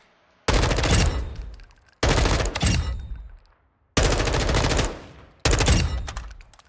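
A fully customized M4 rifle in Modern Warfare 2 firing four sustained full-auto bursts, each about a second long with a short pause between, loud and close with no talking.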